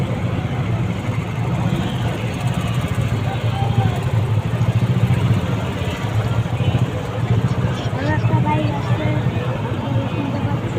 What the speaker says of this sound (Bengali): এই হচ্ছে কলকাতা পুলিশের বাইক বাহিনী যাচ্ছে